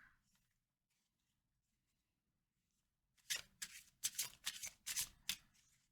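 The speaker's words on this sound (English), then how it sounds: "let's get you a couple tarot cards" Tarot cards are shuffled in a quick burst of crisp riffling flutters, close and fairly loud after several seconds of near silence.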